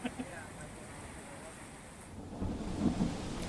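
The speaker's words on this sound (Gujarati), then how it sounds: "નડિયાદ અને આસપાસના ગ્રામ્ય વિસ્તારોમાં પણ વરસાદ છે।" Unseasonal rain falls around Nadiad in Kheda, Gujarat, a steady broad wash of rainfall with a low rumble swelling near the end; no clear speech.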